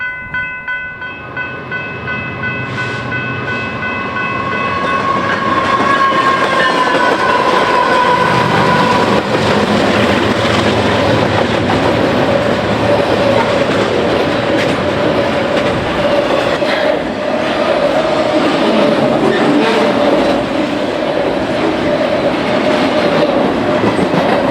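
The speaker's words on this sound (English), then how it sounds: "Following directly behind the express is another BNSF Z train bound for the Pacific Northwest." A BNSF Z intermodal freight train bound for the Pacific Northwest rolls past, loud and close, its horn sounding early before a steady roar of wheels and clattering railcars fills the rest.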